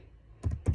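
Keys tapped on a computer keyboard while entering a numeric ID into an Excel spreadsheet, two short bursts of close keystrokes after a quiet pause.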